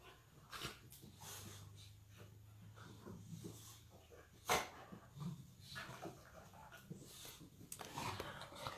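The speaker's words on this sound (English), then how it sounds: "Now I've got dogs wrestling next to me." Two dogs, an old boxer and a half-year-old pup, wrestle and play close by, with snuffling breaths, soft whimpers and scuffling through the whole stretch, plus one sharper bump midway.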